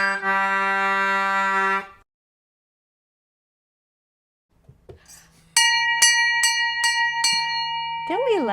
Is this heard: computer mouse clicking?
no